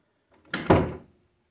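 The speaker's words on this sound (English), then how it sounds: "And there's another door behind this door for another closet." A closet door in an upstairs bathroom of a house opens with a quick latch click followed by a soft wooden thunk and a brief rustle, close and isolated in a quiet room.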